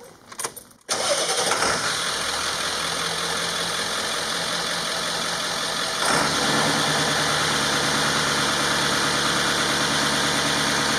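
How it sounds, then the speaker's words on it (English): A Ford OBS 7.3 diesel truck engine cranks briefly, then catches and settles into a loud, steady idle that keeps rattling close by, with a slight lift in pitch partway through. "you won't be able to hear me say anything once I get the truck started"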